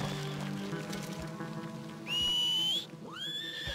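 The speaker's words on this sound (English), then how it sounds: "Damn horse." A horse whinnies twice in quick succession, high and shrill, over a low rumbling background, in Red Dead Redemption 2.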